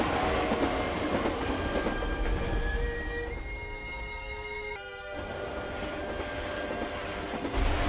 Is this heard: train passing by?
yes